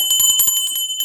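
A handheld pooja bell rung in quick repeated strokes, its bright, sustained metallic tones layering close and loud for about a second, with no voices.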